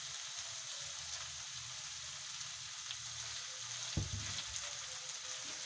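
Cabbage and boiled chicken fry in a pan with a continuous, even sizzle and hiss, broken near the end by one soft knock.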